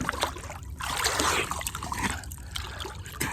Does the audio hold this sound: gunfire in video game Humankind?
no